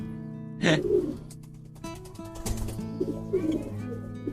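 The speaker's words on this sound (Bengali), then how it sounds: "সবগুলো কবুতর ছেড়ে রাখছি" Domestic pigeons let loose in a loft give low, rolling coos, several overlapping calls close by, with a brief rustle of movement.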